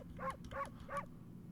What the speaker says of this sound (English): you just let out a little woof